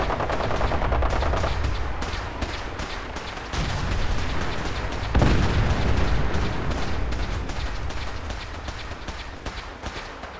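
Rapid, dense gunfire from the video game Fallout rattles almost nonstop, with machine-gun bursts overlapping heavier explosive booms. The shooting stays loud and close throughout.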